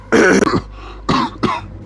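A voice imitates a cough: three short, rough bursts, the first longer and louder, followed by two quicker ones, close and clear.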